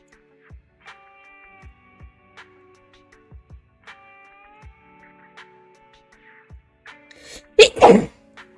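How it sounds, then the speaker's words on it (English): A single sharp, loud human sneeze bursts out near the end, preceded by quiet clicks and faint tonal beeps. "I sneezed."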